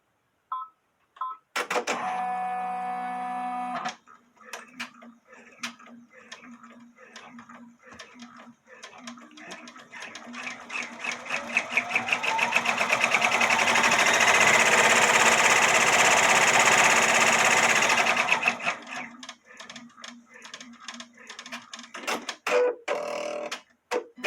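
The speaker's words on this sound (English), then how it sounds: "now we're going to do the placement stitch for the hat that goes up on the top of the letter" An embroidery machine stitches an appliqué placement outline on a baby bodysuit, starting with a few clicks and beeps, then a long, steady whirring run of rapid needle strikes that grows louder before stopping, with faint handling noise around it.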